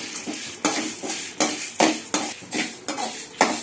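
Curry leaves dry-roasting in a pan for vallarai keerai idli podi, heard as a regular series of loud metallic scrapes and clinks from a spatula stirring against the pan, with no talking.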